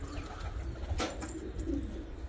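Young, energetic pigeons coo low and steady under a dull hum, with a brief burst of flapping or shuffling near the middle.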